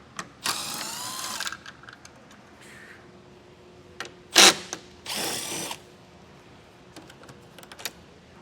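Power tool whirring in several short bursts while removing 10mm bolts from a vehicle during a base plate installation, with clicks and metallic taps in between.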